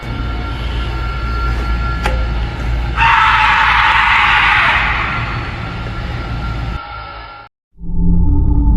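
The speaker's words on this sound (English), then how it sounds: "an eerie scream suddenly broke the peace of the night" A night security camera picks up a loud, eerie drawn-out scream over a constant rumbling background, lasting several seconds before it cuts out briefly and the noise returns.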